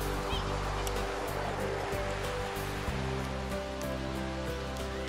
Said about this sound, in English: Makaha Beach, one of the hidden gems out here on Oahu